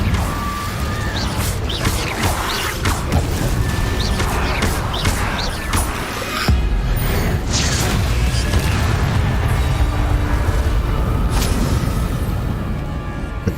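Repeated Incendio fire spells cast in Hogwarts Legacy, with loud whooshing bursts, crackling hits and booms amid dense combat noise, keeping up a busy, continuous roar throughout.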